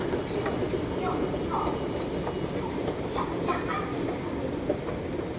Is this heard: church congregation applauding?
no